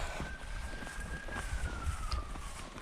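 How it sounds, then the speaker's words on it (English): A faint, distant police siren wails out across open Somerset countryside, its tone sliding slowly, half-buried under wind and nearby rustling. "there's police sirens."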